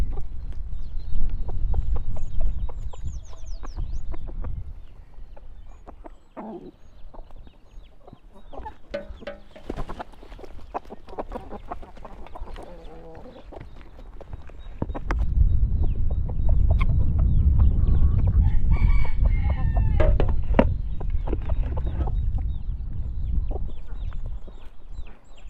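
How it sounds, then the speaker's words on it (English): Chickens cluck and scratch about nearby in a farmyard, with scattered soft clucks and rustling that rise and fall over a steady low background rumble. "Just look at how much the chickens love it."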